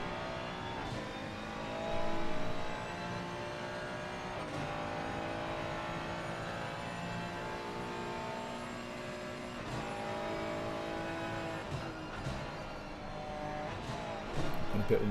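McLaren race car in a sim racing game at Suzuka, engine note climbing and dropping through gears in a continuous loud drone, with brief shifts and a light tire scrub.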